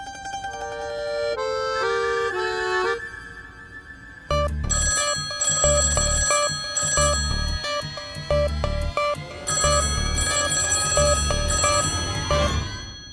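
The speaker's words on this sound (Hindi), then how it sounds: "2-2 घंटी बज के फोन बंद हो रहा है।" A telephone rings repeatedly with bright electronic tones, first a short melodic phrase, then louder rhythmic bursts of ringing continuing without talk.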